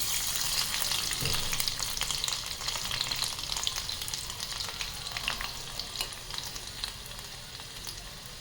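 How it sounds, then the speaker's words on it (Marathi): Garlic sizzles in hot oil with cumin seeds for a Khandeshi dry vegetable dish, a dense, steady crackle with occasional stirring scrapes, close and continuous, with no one speaking. "आता आपण त्याच्यामध्ये लसूण घालूयात"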